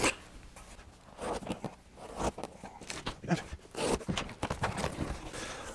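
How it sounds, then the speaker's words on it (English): A knife slices through a cardboard shipping box in a series of scraping, tearing strokes and crinkles, heard up close at low level indoors. "Get the knife out here and cut this open."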